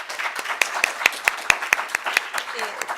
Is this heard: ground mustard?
no